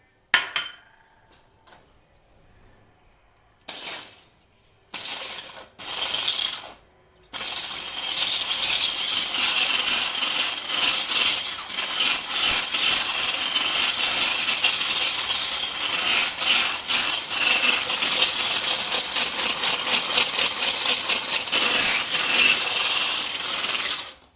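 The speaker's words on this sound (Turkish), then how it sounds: "Toz şekerimi bu sarısına ilave ediyorum. Ve çırpmaya başlıyorum." Egg yolks and sugar are whisked by hand in a bowl, giving a fast, continuous, loud metallic clatter and scraping. A few hesitant strokes come before the sustained whisking.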